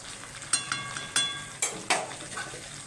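Desi chicken pieces with the skin on frying in a pan and being turned over, giving a steady sizzle broken by about six sharp scraping strokes of a spatula, close and fairly loud, with no voices.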